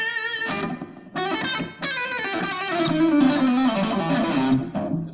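Distorted electric guitar chords ring out, played in short bursts and then a sustained, gritty phrase.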